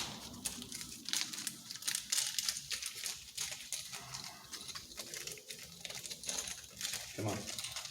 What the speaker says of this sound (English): Little Ziploc baggie here.